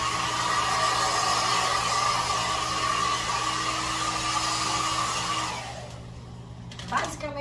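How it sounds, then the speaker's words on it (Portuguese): A hair dryer blows steadily on a client's hair during a military-style barber cut, a loud continuous whooshing whir that cuts off near the end, leaving quieter room noise. "Vou jogar um ventinho aqui do secador só para o meu cliente não ficar"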